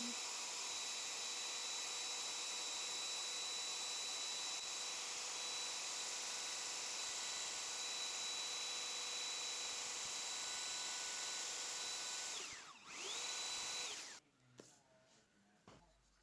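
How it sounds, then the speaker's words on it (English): A router set to a shallow depth strips varnish from a small patch on a wooden children's table leg, its high steady whine droning on before spinning down, followed by quieter handling noises. "I set my router to a very shallow depth just to remove the varnish from this localized area"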